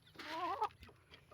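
A single Black Calpara Peruvian hen, about three years old, gives a short, throaty cluck with a rising squawk at the end, fairly close against a quiet background.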